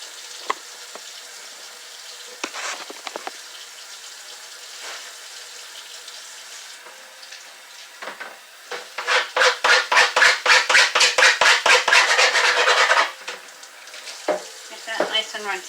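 Food being rinsed under a running kitchen tap, water splashing into a sink in bursts; a steady louder stretch of flowing water midway, with quieter rinsing and handling noises before and after.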